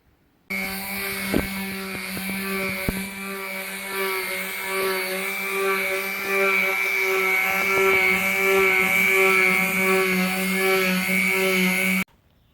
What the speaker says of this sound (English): So I'm going to sand me a little edge on both of these all the way around